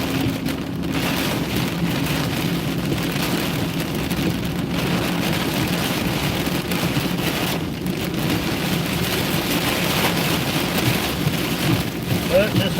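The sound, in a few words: heavy rain with thunder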